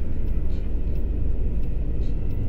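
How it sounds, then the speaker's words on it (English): An aeroplane taking off in the video game Tourist Bus Simulator, a steady loud low rumble and roar that continues without a break. "That definitely sounds like an aeroplane taking off to me"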